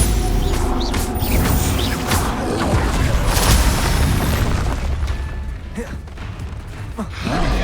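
Stupefy spell impact in Hogwarts Legacy, heavy booming crashes and mechanical clatter rolling through a dense combat mix, loud and sustained with several bursts.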